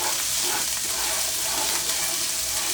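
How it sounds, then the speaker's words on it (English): Ginger and cumin sautéing in a hot pan, giving a steady, bright, close-up sizzle and crackle that keeps up without a break, with no talk over it. "Just saute the ginger and the cumin for a few seconds."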